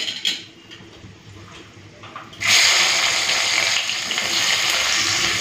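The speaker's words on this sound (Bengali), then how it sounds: "এরপরে দিয়ে দেবো পেঁয়াজ কুচি।" Chopped onions hit a pan of whole garam masala spices (cardamom, cloves, cinnamon) for egg biryani, bursting into a loud, steady broadband sizzle after a quiet start and holding close and continuous to the end.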